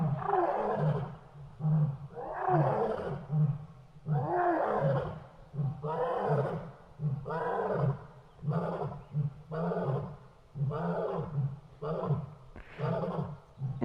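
Lions roar at a wildlife sanctuary, a rhythmic series of deep, grunting calls repeating about every second or so, fairly loud and carrying, with the pulses gradually shortening toward the end of the sequence.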